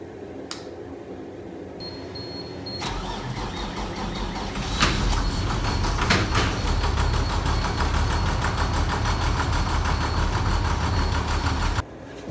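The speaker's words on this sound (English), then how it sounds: "I'll make sure the bus can start" Bus engine cranks and catches, then settles into a loud, steady, rough idle that runs close by for several seconds.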